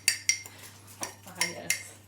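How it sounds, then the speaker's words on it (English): A whisk clinking against a bowl while mixing cookie batter, a handful of separate bright metallic taps at an uneven pace, fairly quiet and close. "I'm ready for whisking."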